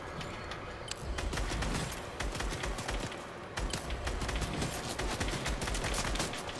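Dense, fairly quiet gunfire in Fortnite, a steady rattle of overlapping shots from distant and nearby weapons that continues throughout with only a brief lull midway.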